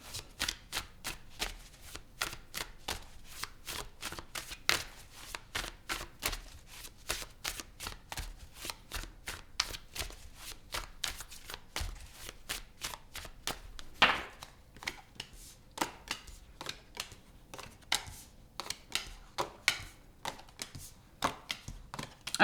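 Tarot cards are shuffled for a reading, a long run of quick crisp riffling and slapping card sounds in steady clusters, close and fairly soft, with no voices.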